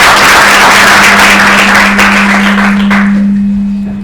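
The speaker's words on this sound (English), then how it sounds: "let's give him a round of applause" Dense audience applause fills a university law school lecture hall, a steady wash of many hands clapping at full volume before tapering off near the end, with no talk over it.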